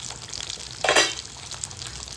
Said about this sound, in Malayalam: കറിയൊന്ന് ഇളക്കി നോക്കാം നമുക്ക്